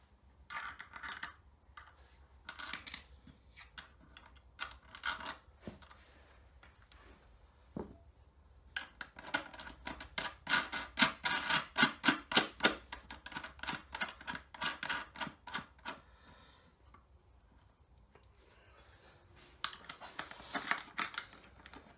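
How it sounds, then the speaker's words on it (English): Nut washers and nuts are fitted onto bolts while building a corner desk from a kitchen worktop. Small metal parts click and rattle in quick bursts of clattering taps, close by, with pauses between runs and no speech. "So now I'm just going to put the nut washers and the nuts on the bolts."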